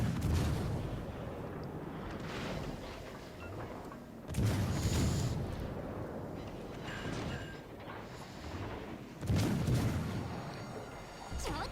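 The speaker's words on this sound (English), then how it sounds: "Just start firing immediately to bait them into shooting back" Naval guns of the KMS Mainz cruiser firing in the game WoWs Legends, three heavy booming salvos spaced several seconds apart over a low rumbling background, with brief speech in between.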